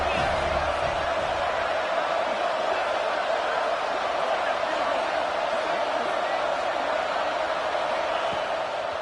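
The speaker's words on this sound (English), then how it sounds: "And the crowd coming to life here, trying to help this defense down in the red zone." Steady roar of a stadium crowd cheering in an NCAA football video game, dense and continuous throughout with no clear breaks.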